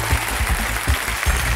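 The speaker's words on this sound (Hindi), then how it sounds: "जोरदार तालियां हो जाए हमारे।" Studio audience on the Kaun Banega Crorepati quiz show breaking into loud, sustained applause, a dense steady clapping wash with a few heavier thumps throughout.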